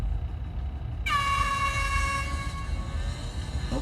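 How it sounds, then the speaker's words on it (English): A loud air horn blares in GTA San Andreas: a sudden, sustained chord-like truck horn blast starts a second in over low engine rumble and holds to the end. "Oh, just a loud air horn."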